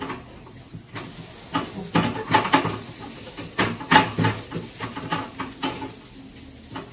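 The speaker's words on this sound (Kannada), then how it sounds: "ತಿರುಗಿಸಿ ಹಾಕಾದ್ಮೇಲೆ ಲೋ ಫ್ಲೇಮ್ ಇಟ್ಕೊಂಡು ಸ್ವಲ್ಪ ಜಾಸ್ತಿ ಹೊತ್ತು ಫ್ರೈ ಮಾಡ್ಕೊಂಡು" An egg omelette tucked inside a bun fries on low flame in a pan, giving a steady soft sizzle with irregular scraping and stirring clatter from a utensil, fairly close and with no talk.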